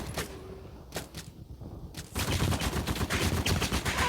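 Gunfire in the World War 2 shooter game Polyfield: a few sparse shots early on, then from about two seconds a dense, loud run of rapid automatic fire continuing to the end.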